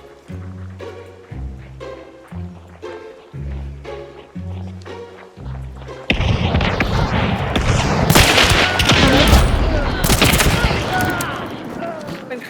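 Loud, dense bursts of gunfire and rapid volleys erupt in the shooter game Hunt: Showdown after a quieter stretch of rhythmic tones, with voices speaking over the action.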